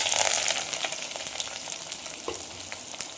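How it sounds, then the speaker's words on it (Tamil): Chopped large onions sizzle and crackle in hot oil in a pan for an egg gravy, a steady close hiss with occasional sharper pops and stirring scrapes, no voices. "இந்த ஸ்டேஜில் நம்ம வெட்டி வச்ச பெரிய வெங்காயத்தை இதில் சேர்த்துக்கலாம்."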